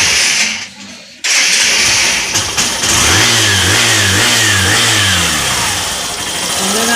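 Hero Glamour i3s BS6 motorcycle engine starting: a brief crank after a short lull, then the engine catches and revs up and down in an uneven rhythm before settling into a smooth idle, close and loud, with a voice talking over it.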